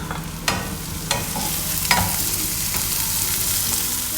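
Chopped onion and garlic sizzle steadily in hot refined oil, a dense continuous frying hiss broken by a few sharp stirring clacks of a spoon against the pan.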